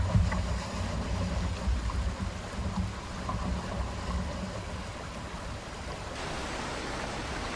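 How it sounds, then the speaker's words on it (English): Canoe moving upriver on river water in arctic weather, a dense, steady wash of water and wind noise with low rumble, continuous and unbroken, no voices. "now I gotta get back to the canoe and continue my own journey upriver"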